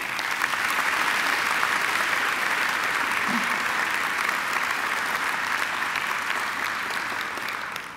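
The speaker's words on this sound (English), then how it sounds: "They deserve a round of applause." Large-hall applause at a Macquarie University graduation ceremony, a broad, even wash of many hands clapping that holds steady and loud, easing slightly near the end.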